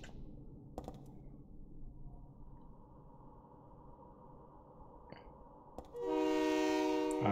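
In the horror game Silent Hill 3, a low rumble of a moving train builds quietly, with a few clanks, until a loud sustained horn blares near the end.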